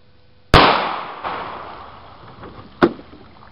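A Winchester Silvertip round fires outdoors as a sharp, loud gunshot with a long rolling echo, followed by a fainter second report, then a third sharp crack near the end.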